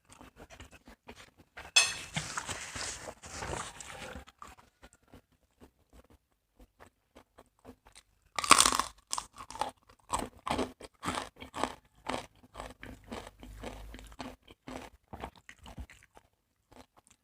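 Crunchy fried chicken skin is chewed close up, with sharp crisp bites and a long run of rhythmic crackling crunches, loud and alone against near silence.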